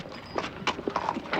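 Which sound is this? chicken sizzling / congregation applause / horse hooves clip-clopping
horse hooves clip-clopping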